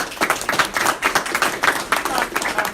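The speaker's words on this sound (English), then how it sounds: "Round of applause." Loud, close applause from a hack day presentation audience, rapid dense clapping with rhythmic swells throughout.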